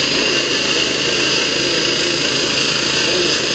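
A lawnmower engine runs at a steady, loud drone during a lawnmower tug of war, continuous and close with a constant buzzing tone and no pauses or voices.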